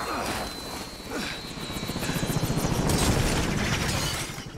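Helicopter in the video game Call of Duty: Modern Warfare during a crash sequence, its rotor chop pulsing steadily and growing louder amid loud mechanical clatter, gunfire and impact noise, with voices mixed in.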